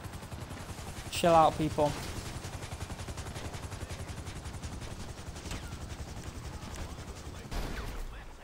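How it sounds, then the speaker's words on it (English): Gunfire in GTA Online, a rapid continuous rattle of shots running steadily under the scene with a few louder bursts, while a voice speaks briefly near the start. "Okay, we're getting shot at."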